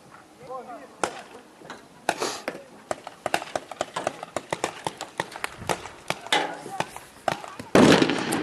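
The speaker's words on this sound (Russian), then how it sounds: "Криво гранату кидает!" A thrown grenade bursts amid a string of sharp, crackling pops and bangs, with a louder, broader blast near the end and voices shouting over the action.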